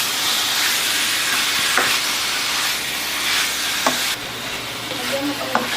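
Adobo sizzling and frying in a pan while being stirred, a steady hiss with occasional scrapes and clinks, close and continuous.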